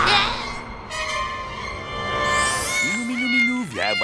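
A cat meows in long, drawn-out wails, close and fairly loud, with a final rising-falling meow near the end.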